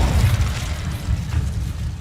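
Incendio fire spell cast in a Hogwarts video game, a short, heavy whooshing blast with a deep rumbling roar that holds steady for about two seconds, no voices.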